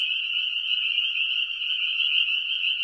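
A dense chorus of spring peeper frogs calling continuously, high shrill peeps blending into a steady loud trill with no voices.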